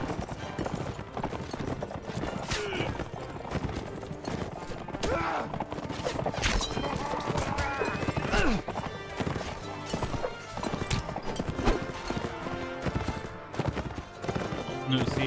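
Horses gallop in the Mount & Blade video game during a castle siege, with dense rapid hoofbeats, occasional whinnies and clashing combat noise filling the mix at a loud, busy level throughout.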